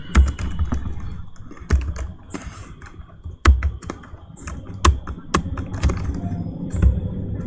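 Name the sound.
typing code on a computer keyboard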